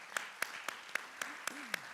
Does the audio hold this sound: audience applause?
yes